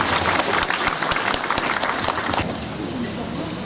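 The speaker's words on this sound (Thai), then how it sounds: "ขอเสียงปรบมืออีกสักครั้งครับ" Applause from a crowd at the opening ceremony of a check weir built from electricity poles in Ban Khok, Lopburi, with sharp individual claps standing out at first, then settling into a softer, steady patter.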